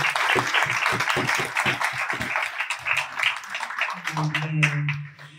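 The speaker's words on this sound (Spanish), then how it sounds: "Aplausos para el escritor de la generación." An audience at a Spanish-language book launch applauds the writer, brisk clapping that fades within a few seconds while a voice takes over and carries on talking.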